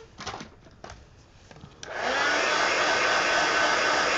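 A handheld dryer is aimed at a coloring page and switches on partway through, a loud steady blowing hiss that continues to the end after a few faint rustles and taps.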